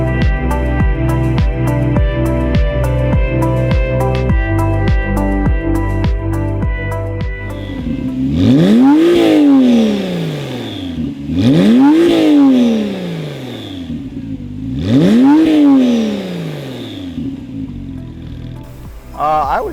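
A Porsche sports car engine with a Fabspeed aftermarket exhaust revs three times in succession, each rise and fall loud and throaty, following a stretch of steadier mechanical sound.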